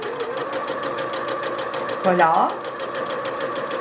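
A sewing machine stitches denim and fabric at a slightly raised speed, giving a steady, rapid mechanical clatter close by, with a brief whirring rise midway and a short spoken word over it.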